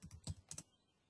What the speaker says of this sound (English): This Google search, I am now typing in Google.